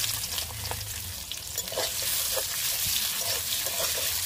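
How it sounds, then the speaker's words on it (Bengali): Chopped onion and bay leaves fry in leftover fish oil for a Bengali bhetki fish dish, a steady soft sizzle with occasional stirring clinks, fairly quiet and without talk. "পেঁয়াজটা হালকা করে ভেজে নিয়েছি।"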